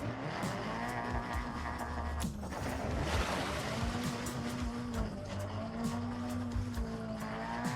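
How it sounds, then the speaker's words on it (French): A Nissan Skyline in Forza Horizon drifts hard across snow, its engine droning loud and steady throughout with tire skids and whooshing surges layered over the continuous roar. "comment ça drift fort dans la neige"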